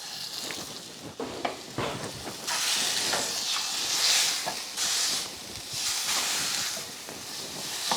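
Food sizzles steadily while browning in a hot pan on a stovetop, a loud, close hiss that swells and eases in waves with occasional faint stirring clinks.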